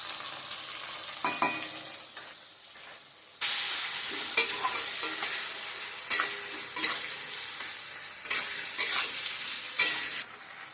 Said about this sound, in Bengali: হয়ে গেছে হালকা হালকা ভাজা পেঁপেটা